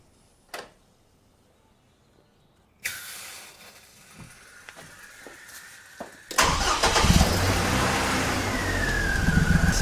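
A car engine being worked on during intake valve cleaning with PEA carbon cleaner gives a few faint clicks, then cranks, and after about six seconds catches and settles into a loud, steady run.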